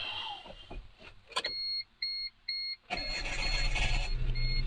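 A 1997 Geo Metro sounds a few short, evenly spaced dashboard chimes, then its engine cranks and catches, settling into a steady close-up idle.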